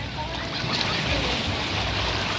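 Sea surf rolls steadily at Matabungkay beach in Batangas, a continuous broadband wash of waves with wind noise on the microphone, close and fairly loud throughout.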